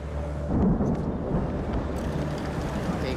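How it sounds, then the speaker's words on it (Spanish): Deep rumbling thunder from an approaching storm rolls continuously at moderate loudness, with a steady low roar that could be rain or wind noise and no talking. "Se acerca un aguacero que podría convertirse en tormenta eléctrica."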